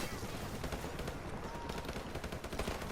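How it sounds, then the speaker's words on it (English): Rapid, dense gunfire from a G3 rifle being tap-fired in short bursts in Call of Duty: Modern Warfare Remastered, loud and continuous across the whole clip, with a busy game soundscape beneath. "the G3 is fully auto, so it's not semi-auto. I just tap fire a little bit."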